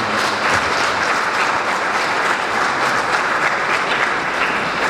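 An audience at a memorial celebration applauds, a loud, dense and even wall of many hands clapping that holds steady without pause from start to finish.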